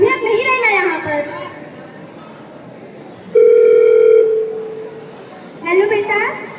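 A steady telephone dial tone holds for about a second as a call is placed during a Hindi stage skit, with voices talking before and after it.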